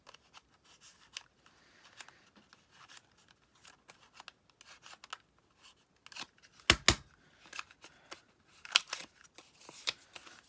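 Scissors trimming the corners off paper, heard as soft rustling and scratchy snips with one sharper cut near the middle, quiet and close, with further paper handling after it.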